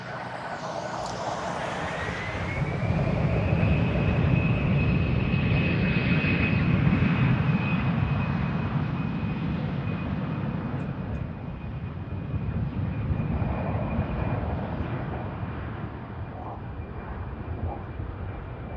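An Airbus A330 on pushback at Frankfurt Airport, a steady whine of turbine engines with a sustained high tone over broad rumbling noise, fairly close and continuous throughout.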